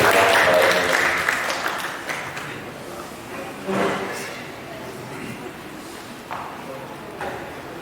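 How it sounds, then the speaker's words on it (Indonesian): An audience applauds Professor Putu Rumawan Salain; the clapping starts strong and tapers off quickly, leaving scattered thumps and faint movement afterward. "Kita beri tepuk tangan kepada Profesor Dr."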